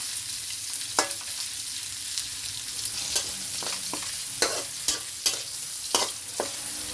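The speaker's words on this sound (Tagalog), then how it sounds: "igigisa ko lang siya ng konti" Grilled pork belly (liempo) sizzles steadily in a frying pan, with several sharp scraping clicks from stirring at irregular intervals; close and moderately loud, with no voices.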